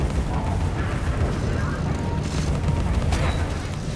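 A tea cannon in the video game Alice Madness Returns fires dense, rumbling blasts that smash through walls, a continuous barrage of booms and crashes layered with game ambience.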